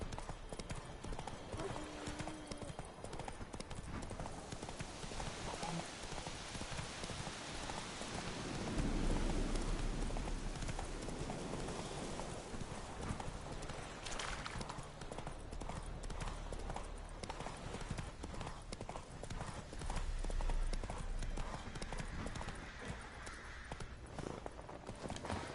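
Horse hooves gallop in a steady clip-clop rhythm in The Witcher 3, continuous and moderately close, while a faint voice talks at low level.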